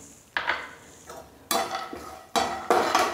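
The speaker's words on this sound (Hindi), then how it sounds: "ये बादाम फ्राई करेंगे" Almonds tossed in hot ghee in a pan for brain-boosting laddoos give several distinct bursts of stirring and scraping, with a light sizzle underneath, close and fairly loud, and no voices.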